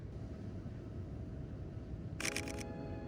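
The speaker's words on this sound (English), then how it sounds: "Oh, the shutter is so much more mechanical on this camera." A single quick burst of mechanical shutter clicks from a camera fitted with an 85mm f/1.4 lens, heard close and crisp over a quiet background hum.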